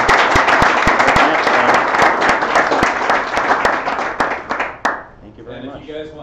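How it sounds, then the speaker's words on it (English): A room of people applauds hackathon teams after final HoloLens pitches, with distinct sharp claps standing out over the crowd before the clapping thins out and gives way to talking near the end. "Round of applause for all the teams again."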